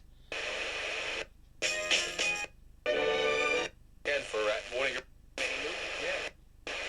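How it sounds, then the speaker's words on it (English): An FCD MK5 ghost box sweeps through radio stations, producing loud bursts of static and chopped broadcast fragments in five or six blocks separated by short silences, with no one talking over it. "have the Ghost Box on with the radio sweeping as it is now"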